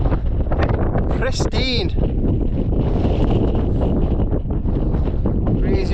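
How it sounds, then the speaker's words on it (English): Wind blowing across an exposed Peak District hilltop, a steady loud roar buffeting the microphone throughout, with people briefly talking over it. "Breezy up here."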